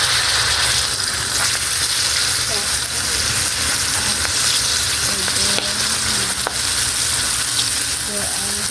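Bangus (milkfish) steak frying in hot oil, a loud, dense, steady sizzle and crackle filling the whole stretch, with occasional faint clinks of stirring and no talk.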